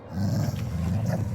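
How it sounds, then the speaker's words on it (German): A dog growling in the video game Indiana Jones and the Great Circle, a low continuous rumbling snarl lasting just over a second, close and steady with no talk. "Brauchst mich nicht anzuknurren."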